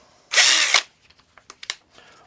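A Parkside PABS 20-Li C3 20V cordless drill/driver spins up in reverse for about half a second, a loud, close whirring buzz, followed by a few quiet clicks and handling sounds.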